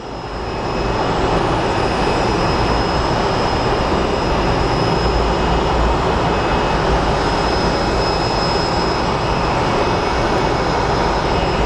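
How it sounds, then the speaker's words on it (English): A Contour Airlines Embraer 135 jet lands at Phoenix Sky Harbor, its loud broadband engine roar with a high turbine whine swelling in over the first second, then holding steady and close. "It's an Embraer 135, probably coming in from Page, Arizona."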